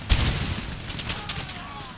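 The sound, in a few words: musket volley fire from soldiers in Empire: Total War video game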